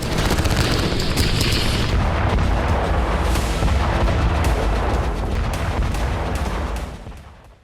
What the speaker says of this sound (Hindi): ग्रैड रॉकेट लॉन्चर से हमला किया गया है